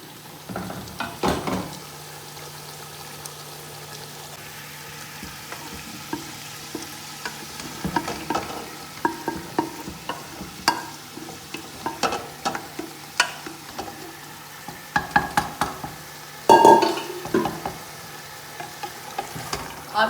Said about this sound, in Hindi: अब मैं ये सारी गोभी को मिक्स करूँगी अच्छे तरीके से।